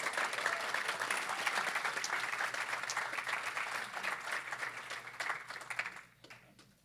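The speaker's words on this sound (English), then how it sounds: "Please give a big round of applause for Kayla" An audience applauds an Excellence in Volunteerism honoree at a 2024 awards ceremony, a dense, steady wash of many hands clapping that fades out near the end.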